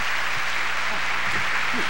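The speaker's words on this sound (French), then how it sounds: "Mon cher Robert Pigeon, on l'applaudit." A steady wash of clapping from a crowd, continuous and even, with some faint voices underneath.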